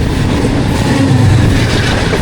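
The Allama Iqbal Express train rolling past close by, a loud continuous rumble of wheels and carriages with low rail noise throughout the short stretch.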